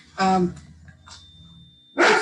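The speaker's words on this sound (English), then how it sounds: "my dog is barking" A dog barks twice indoors during a council meeting held remotely, two sharp close barks separated by a pause, with a faint tone between them.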